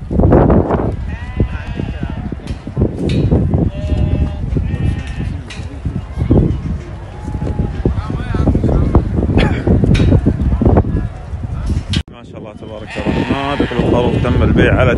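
Sheep and lambs bleat repeatedly at a livestock market in Hafr Al-Batin, their cries overlapping with someone talking loudly nearby and some wind buffeting the microphone.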